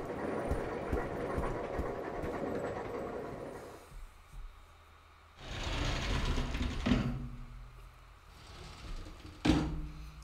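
A moving train in the Resident Evil 0 video game gives a steady, rumbling roll with hiss, fading to quiet and then swelling again in two louder surges, one ending in a sharp clank, with no talking.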